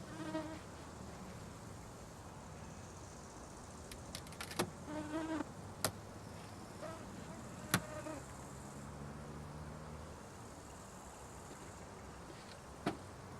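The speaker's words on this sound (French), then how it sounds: "Très peu d'abeilles." Faint buzzing of a few honeybees drifting around during honey harvesting from hive supers, with scattered soft clicks and knocks in a quiet background.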